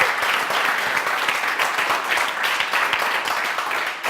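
Audience applause for award winners at a Microsoft brand event: dense, steady clapping from a crowd that holds evenly for the whole stretch, then dips slightly at the end.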